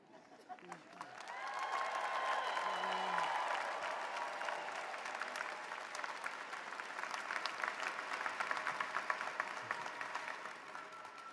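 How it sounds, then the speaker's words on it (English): Graduates and guests applaud and cheer at a Southern New Hampshire University doctoral and graduate ceremony, a broad sustained wave of clapping swelling early then continuing steadily, fairly distant in a large hall. "please rise and, if you are able, and cheer loudly"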